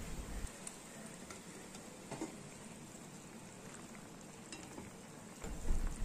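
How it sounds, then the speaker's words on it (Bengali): Fried eggplant pieces dropped into boiling gravy in a pan, giving a faint, steady sizzle and bubbling with a few soft stirring taps and no talk. "ভালো করে ফুটে গেলে ভেজে রাখা বেগুনের টুকরোগুলো দিয়ে দিচ্ছি"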